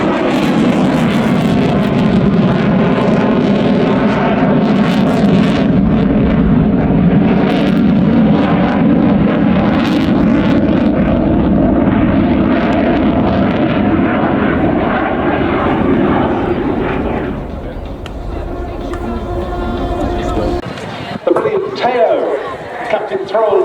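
Loud, roaring jet thunder from a Royal Danish Air Force F-16AM during an air show display at RIAT, sustained and close before fading off toward the end, with a commentator talking over it.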